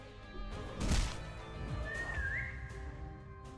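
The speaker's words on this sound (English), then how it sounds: "Did you hear that whistle?" A single rising whistle in a video game, clear and fairly near, sounding briefly after a short crash amid background game noise.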